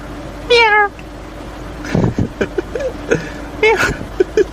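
A cat meows several times up close: first one clear, wavering meow, then a run of shorter, quieter mews and chirps spaced irregularly, with no talking over them.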